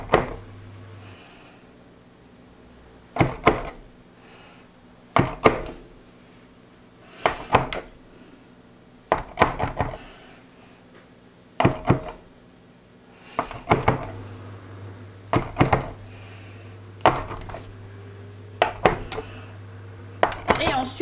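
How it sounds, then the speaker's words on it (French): Rolled orange brioche dough is cut into about twelve pieces. The result is a series of sharp knife knocks against a board or dish, spaced a second or two apart, with quiet gaps and a low hum between strokes. "on va venir couper notre boudin en morceaux"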